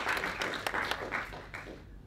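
Fairly quiet applause from a live-show audience for a contestant who just won a prize; the clapping is steady at first, then thins and fades toward the end.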